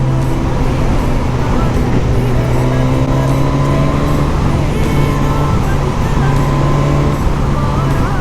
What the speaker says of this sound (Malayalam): ക്വിക്ക് ഷിഫ്റ്റർ വൻ ഉപകാരം കേട്ടോ. ക്ലച്ച് പിടിക്കാതെ ഗിയർ ഇങ്ങനെ മാറ്റി കളിക്കുമ്പോൾ ഒരു സുഖം.